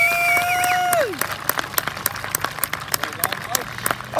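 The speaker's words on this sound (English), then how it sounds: "I want everyone here to give these guys a huge round of applause" Crowd at a British Drift Championship round claps for the final three finishers; sparse, distinct hand claps follow a fading electronic tone, fairly close and uneven.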